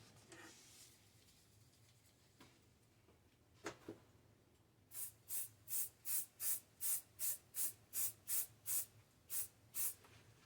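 Spray adhesive from a can is misted onto cutaway embroidery stabilizer inside a small spray box, coming as about a dozen short, evenly spaced hissing bursts in a steady rhythm, close and fairly loud after a quieter stretch.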